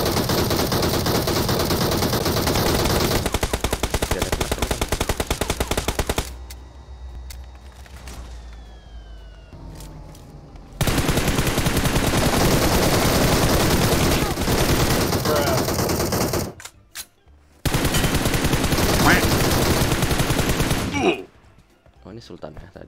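Sustained automatic gunfire from a squad battle video game, loud and continuous in long bursts, with short quieter gaps and a few pauses, while a player talks excitedly over it.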